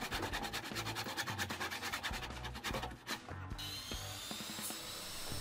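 A radial arm saw blade chews through wood while cutting mortise and tenon joints for a wooden bar stool, giving a loud, rapid run of rasping pulses that eases off toward the end.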